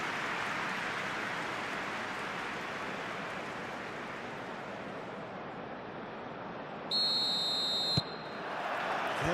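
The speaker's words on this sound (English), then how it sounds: "There's the whistle." A referee's whistle in the football video game eFootball PES 21 during a simulated World Cup 2026 match, one sustained shrill tone near the end, heard over a steady roar of stadium crowd noise.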